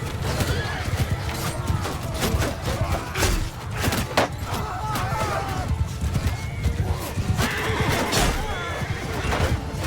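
A horse whinnies amid a busy, noisy Mount & Blade II: Bannerlord battle, with clattering hooves, crashes and scattered thuds filling the scene continuously.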